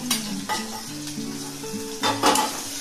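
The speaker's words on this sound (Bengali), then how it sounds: "তাই লতিগুলোকে আমি তেলে দিয়ে দিচ্ছি। সাদা তেল দিয়ে ভাজছি, ফ্রাই করবো" Taro stolons frying in white oil, a close, continuous sizzle broken by a few stirring scrapes against the pan.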